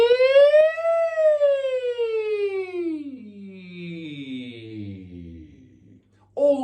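A single voice imitates a siren, gliding from low chest voice up into falsetto and then sliding steadily back down to its lowest notes, sustained and fairly loud, with a brief new vocal onset at the very end.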